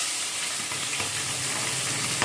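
Small tengra fish fry in hot oil, giving a dense, loud, continuous sizzle and crackle with occasional brief pops, heard up close.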